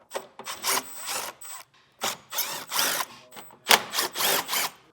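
Power drill driving out T15 screws tucked up in the grille of a 2024 Chevrolet Colorado pickup, in repeated short bursts of whirring with brief pauses and ratcheting clicks between, close and loud.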